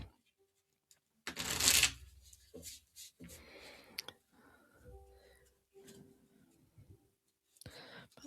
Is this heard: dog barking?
no